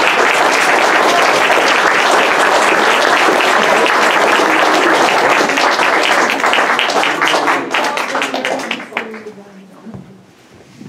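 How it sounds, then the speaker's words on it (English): A lecture audience in Hamilton breaks into loud, dense applause that fills the room for about eight seconds, then thins out and fades to scattered claps near the end. "Thank you for that applause."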